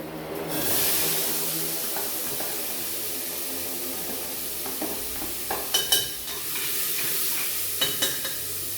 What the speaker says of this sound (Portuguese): Agora na panela de pressão eu vou colocar o que eu separei para refogar, que é aquela pimenta de cheiro, a cebola e o tomate